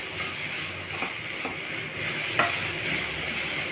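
Grated carrot stirred and fried in ghee in a pan, a steady close sizzle with occasional scraping strokes of the spoon, no voices.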